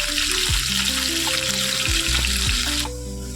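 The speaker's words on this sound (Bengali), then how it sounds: "হালকা করে ভেজে নেবো মাছগুলো।" Katla fish pieces fry lightly in hot oil in a pan, giving a steady close sizzling hiss that runs throughout beneath low tonal background sounds, then drops slightly in level near the end.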